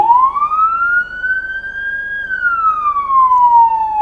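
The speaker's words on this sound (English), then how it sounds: "And then to activate the siren, press the road horn." A custom-built Isuzu fire truck's siren wails loud and close in one long sweep, rising slowly, holding, then falling again, clear and sustained with no talking.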